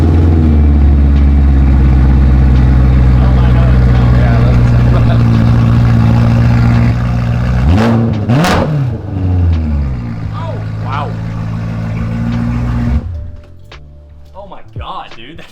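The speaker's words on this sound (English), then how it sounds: "see what this thing sounds like if I were to start it up and give it a few revs with absolutely nothing underneath this car." BMW M3 with its exhaust fully removed, engine firing up loud and raw then revved hard a few times in sharp rising bursts before settling to a rough idle, with people talking nearby.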